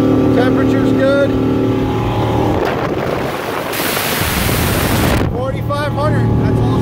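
A 2015 Sea Ray 230 SLX motorboat runs at full power, its engine a constant loud roar mixed with rushing water and wind. Someone talks over it at the start and end.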